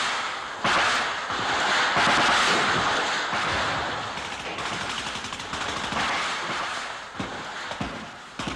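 Gunfire in a French war film set in the jungle, with loud, dense bursts and sharp cracks running throughout, close and continuous, like a machine gun being fired amid battle noise.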